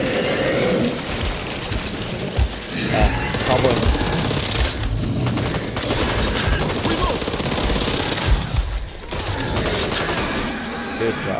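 Dense, rapid gunfire from the Back 4 Blood shooter game rattles in long overlapping bursts, close and loud, with a player's voice heard faintly under the shooting.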